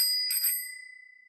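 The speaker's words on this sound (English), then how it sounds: "probably ringing their little bells" A bicycle bell rings once, bright and close, its metallic tone fading over about a second.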